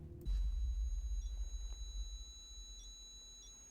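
A low rumble and thump give way to faint, high electronic beeps chirping in short pairs at intervals, like a distant alarm.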